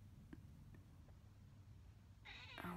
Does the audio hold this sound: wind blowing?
no